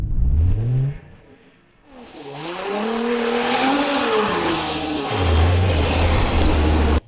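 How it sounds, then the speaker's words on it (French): Nissan GT-R revving hard and accelerating with the steering turned full left, engine pitch sweeping up and down loudly with tire noise, close and alone without talk. "Je vais simplement tourner le volant à gauche et accélérer à fond."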